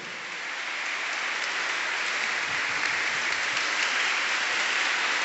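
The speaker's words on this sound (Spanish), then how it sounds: "un aplauso a Jesucristo" Loud, dense applause fills a church concert hall, a steady rain-like roar of many hands that builds slightly and holds without any talking.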